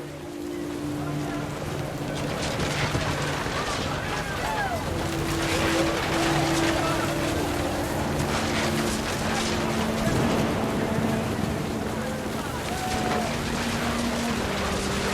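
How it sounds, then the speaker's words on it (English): Steady rain falls in the video game What Remains of Edith Finch as a continuous hiss of drops, heard under a person talking and soft tonal background music. "Rain came down in buckets then"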